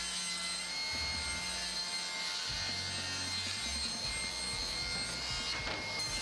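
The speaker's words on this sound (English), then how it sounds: "First step is we're going to mill down all of our parts" Plywood parts for a clamp rack being milled with a power saw, giving a steady loud machine whine with bursts of cutting through wood over about six seconds, no talking.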